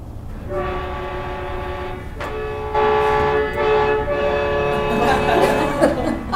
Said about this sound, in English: play this, this train whistle. And this is what it sounds like